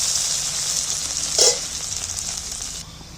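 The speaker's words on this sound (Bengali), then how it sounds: "পেঁয়াজটা একটু তেলের মধ্যে নাড়াচাড়া করে নিচ্ছি" A few onions fry in a little oil for egg biryani, producing a soft, steady sizzle, with one brief louder burst as they are stirred around.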